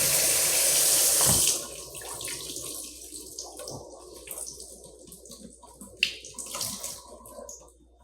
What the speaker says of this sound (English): I rinse it off with cool water